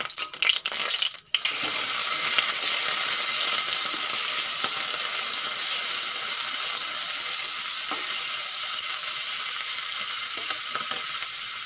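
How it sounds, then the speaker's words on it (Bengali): Shrimp coated in turmeric and salt fry in hot oil in a kadai, giving a loud, steady hiss and crackle close up, with a few sharp clinks at the start and no talking. "এখন হলুদ লবণ মাখা চিংড়ি মাছগুলো আমি ভেজে নেব।"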